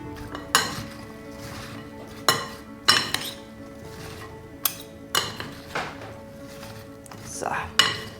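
A spoon mixes apple salad with roasted walnuts in a bowl, giving scattered clinks and scrapes of utensil on dish at irregular intervals, close and moderately loud with quiet pauses between.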